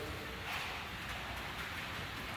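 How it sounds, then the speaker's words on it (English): Steady rain falls on a newly built shop with fresh sides, a soft continuous patter and hiss throughout, close and even, with no talking. "Again, it's raining."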